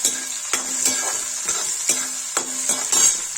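Onions sizzle in a pan for palak paneer, with a steady frying hiss broken by rhythmic scraping stirs and spoon knocks roughly every half second, close and fairly loud with no talk.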